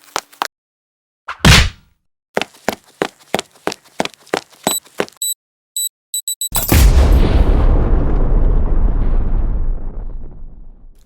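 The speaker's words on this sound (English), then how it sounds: "I love the explosion at the end." A Lego stop-motion animation ends in a loud explosion: after a run of sharp separate clicks, taps and brief chimes, a sudden heavy boom bursts out and rumbles on for several seconds before fading.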